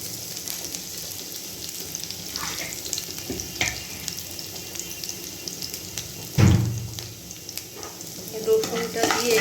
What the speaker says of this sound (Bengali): রসুনটা দিয়ে একটু নাড়ানাড়ি করে নেব, একটু রসুনটা লাল লাল হলেই।